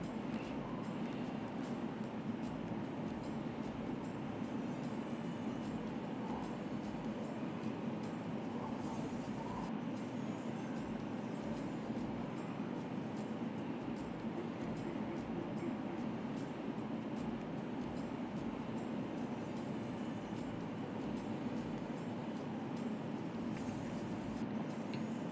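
An electric sewing machine stitches lace onto the edge of a blouse with a steady, close-up whirring drone that runs without a break and with no talk.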